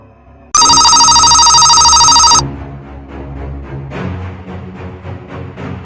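A loud electronic telephone ring bursts in and sounds steadily for about two seconds, then cuts off, leaving muffled background noise and faint clatter.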